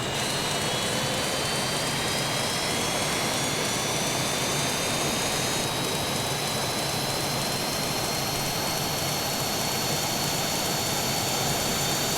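A jet engine in a flight simulator game throttles up, a steady loud broadband roar with a high whine that rises gradually across the whole stretch, with no talking.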